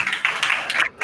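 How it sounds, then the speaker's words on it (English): A short burst of audience applause at a youth discussion event: dense, steady clapping for about a second that briefly drops away near the end. "Could we please give the participants a round of applause,"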